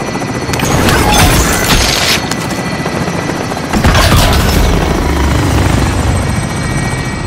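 A helicopter in the shooter game Call of Duty: Modern Warfare roars loud and close with steady rotor thumping, and sharp bursts of gunfire and blasts cut through the din.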